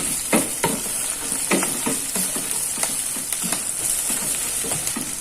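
Spice paste with turmeric leaves, pandan, lime leaves and scallion greens frying in a pan, a constant close sizzle punctuated by repeated scraping stir strokes.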